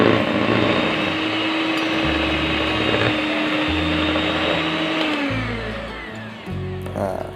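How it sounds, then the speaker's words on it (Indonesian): Electric hand mixer whirring through Oreo wafer filling, a steady motor whine with its pitch shifting as the beaters move, while someone talks over it. "kalau kurang rata bisa dibantu pakai mixer nih"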